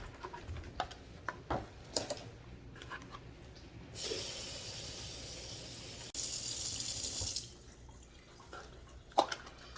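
Kitchen tap water runs into a sink for washing fruits and vegetables, in two steady bursts of a few seconds each, with clinks and drips around them and no talking.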